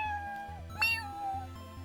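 A house cat gives a single short meow close by, over a steady background of game music with no talking.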